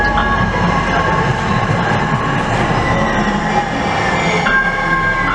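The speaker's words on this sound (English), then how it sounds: "stay well behind the yellow line until the train has stopped." A Minneapolis light rail train pulls into a station platform with a rumbling roll, steady wheel and rail noise and faint high squealing tones, close and continuous.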